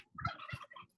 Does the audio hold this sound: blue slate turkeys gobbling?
yes